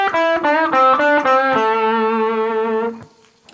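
A blues guitar lick rings out alone: a quick run of picked, bent notes over the first second and a half, then a long sustained note with vibrato that fades near the end.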